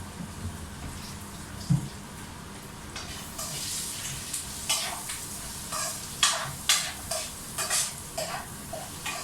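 A spatula stirring food frying in a pan with salt, steady sizzling under a run of scraping strokes that grow louder and busier toward the end, close up, with no talking.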